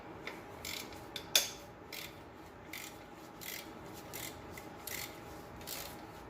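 A wrench ratchets in short clicking bursts while loosening alternator bolts on the 2.0L engine of a 1998 JDM Subaru Legacy wagon. The clicks repeat close up and fairly faint, with one sharper metallic knock early on.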